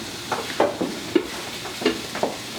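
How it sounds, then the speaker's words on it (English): Vegetables are stirred in a pan with a spoon: a few soft scraping, clinking strokes at an irregular pace, close and fairly quiet, with no talking over them. "So we can give that a stir."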